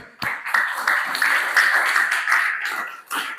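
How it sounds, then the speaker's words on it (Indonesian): A classroom of students claps their hands together in a sustained burst of applause, dense and fairly close, beginning abruptly after a brief pause, holding steady, then tapering with a short final flurry. "tepuk tangannya mana?"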